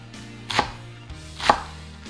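Beet greens and stalks chopped with a knife for a quick beet-leaf soup, two crisp, close blade strikes on a board about a second apart over a steady low hum.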